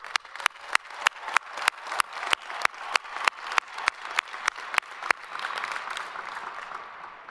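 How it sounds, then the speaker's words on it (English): Graduation commencement audience applauding in steady rhythmic unison claps, loud and roomy, then breaking into a dense wash of scattered clapping toward the end. "Let's give you one more big round of applause."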